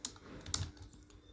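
Computer keyboard keys and mouse buttons click as AutoCAD commands are entered for a mechanical engineering drawing, a quick scatter of sharp, close taps at moderate level with no talk.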